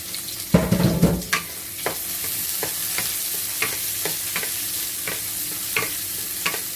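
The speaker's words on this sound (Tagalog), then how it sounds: "Ginisang ampalaya. Ayan. Lagyan na natin ang sibuyas." Onion sautéing in a pan for ginisang ampalaya, bitter melon stir-fry. A short burst of loud clatter and hiss opens the clip, then a steady sizzle continues with intermittent spatula scrapes.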